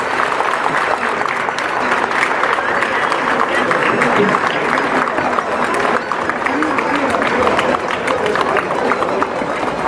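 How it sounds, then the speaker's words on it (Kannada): Loud, sustained applause from a crowd at a devotional gathering honouring a guru, dense steady clapping filling the whole span with faint crowd murmur beneath. "ಜೋರಾದ ಚಪ್ಪಾಳೆ ಬರಲಿ ಗುರುಗಳಿಗೆ."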